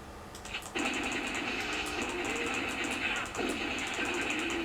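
An enemy's chainsaw in the arcade shooter House of the Dead buzzes steadily at a high pitch, briefly dipping once before revving on, with game noise around it.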